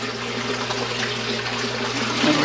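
Water runs steadily through the pump system of a DIY bait tank, a continuous close gurgling flow with a low pump hum beneath and a slight swell near the end.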